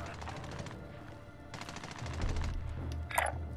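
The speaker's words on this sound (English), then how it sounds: "Shots coming." Gunfire in a Call of Duty downtown battle royale match, a burst of rapid shots over low rumbling game ambience, with players talking over the comms.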